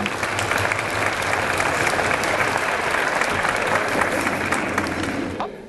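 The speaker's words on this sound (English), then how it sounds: "Give yourselves a round of applause for what you're going to do." Luncheon guests fill the room with sustained applause, a thick, even roar of clapping that fades out abruptly at the end.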